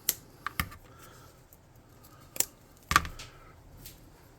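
Scissors snip through material while a tabletop-game skysail prop is being made, giving a few sharp, close clicks spaced unevenly over a quiet background.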